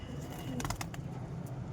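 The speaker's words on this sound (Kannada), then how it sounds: "ಈಗ ಇಲ್ಲಿ ನೋಡ್ರಿ ಗೈಸ್, ಇಲ್ಲವೇ ಪಾರಿವಾಳಗಳು." Pigeons being fed rice give soft, low cooing at a faint level, with a few brief rustling clicks and steady background noise.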